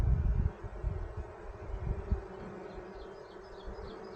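Russian honeybees hum in a soft, steady drone around an open hive during a queen check, with a slightly louder burst at the start that settles into a constant low buzz.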